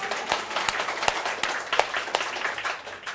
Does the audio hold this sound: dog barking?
no